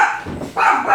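A dog lets out two loud, close barks in quick succession at a drag racing event.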